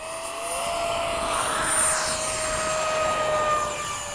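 E-flite F-16 RC jet with a partially rebalanced ducted fan flying, chasing a Freewing F-16 at an RC field: a loud, steady high-pitched whine with a sliding pitch as it passes, no talk.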